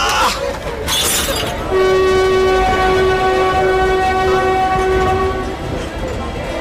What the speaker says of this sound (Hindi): मुंबई जाने के लिए जोधपुर मुंबई एक्सप्रेस ट्रेन चलने वाली है।